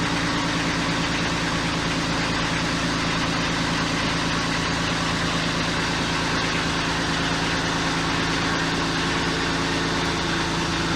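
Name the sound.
tractor engine idling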